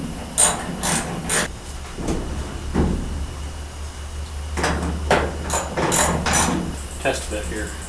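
Wrenches working on bolts in a home garage while fitting a door hanger, a handful of short metallic ratcheting and clanking bursts, with a low steady hum and bits of nearby speech.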